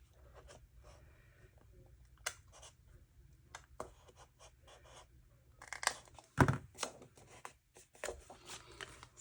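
Small scissors snipping paper for a Christmas junk journal, a scatter of faint close cuts and crisp paper rustles with one sharper snip partway through, no talking.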